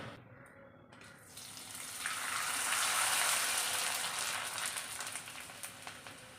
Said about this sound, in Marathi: चला तर आपण पापड तळून घेऊया